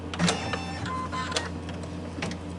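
Embroidery machine stitching fabric, a steady close mechanical hum with rapid repetitive needle clatter running throughout, fairly loud and with no talking.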